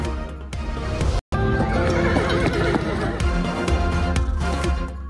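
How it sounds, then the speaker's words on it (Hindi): Arabian horses at the weekly Peshawar horse market neigh and whinny loudly amid a dense crowd, with hoof clip-clops and overlapping voices filling the busy scene throughout. "पोलो के लिए अरबी नस्ल का घोड़ा चाहिए, घुड़सवारी या फिर करतब के लिए?"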